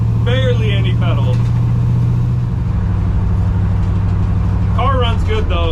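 A supercharged Chevrolet Camaro ZL1 with a Griptech 2.45 pulley runs with a steady low engine rumble under a voice talking close by.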